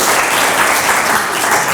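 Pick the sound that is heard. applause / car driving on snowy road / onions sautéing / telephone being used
applause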